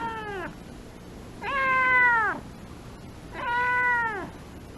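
A cat meows three times during a medial saphenous blood draw at a veterinary clinic, each call drawn out and loud with a falling pitch, separated by short pauses.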